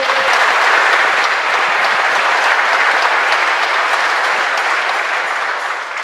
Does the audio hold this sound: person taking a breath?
no